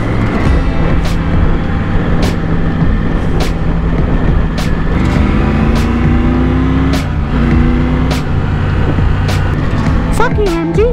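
Triumph Tiger 1200 or 900 motorcycle riding in third gear on a mountain road near Tangste, a loud steady engine drone with wind rush, shifting pitch as it pulls, and sharp clicks scattered throughout.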